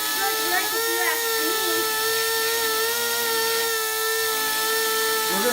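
A high-speed carbide bit grinds down inside a crack in a tool being prepared for brazing. It gives a steady, piercing high whine with slight shifts in pitch, and a person talks over it.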